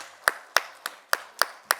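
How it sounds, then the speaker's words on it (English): A few sparse, crisp hand claps at a marketing conference panel as the panelists are welcomed to the stage, six distinct claps spaced roughly a quarter second apart, close and fairly quiet with no other voices. "a nice round of applause"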